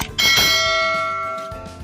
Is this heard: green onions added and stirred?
no